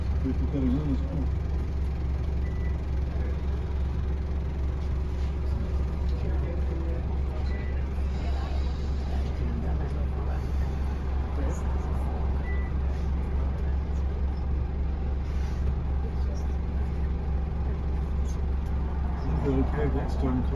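A 2009 Scania N230UD Optare Olympus double-decker bus heard from on board on a run to Swanage, its steady low engine drone constant throughout, with faint passenger voices in the background.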